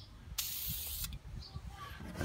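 Spray paint hisses from an aerosol can in one steady burst of around seven tenths of a second, followed by quieter handling sounds and faint hiss traces.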